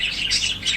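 Four fully feathered budgie chicks in a nest box chirp close by, a busy overlapping stream of high, thin tweets rising and falling in quick bursts.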